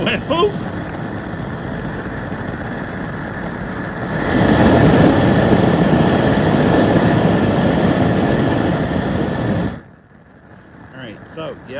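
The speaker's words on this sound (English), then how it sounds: "it does the jet engine noise" A jambalaya cooker burner roars like a jet engine, a loud continuous broadband rush that swells louder midway, holds steady, then cuts back sharply near the end.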